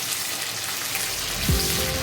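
Finely chopped capsicum sizzles in a hot wok, a steady close frying hiss with a small bump of stirring partway through.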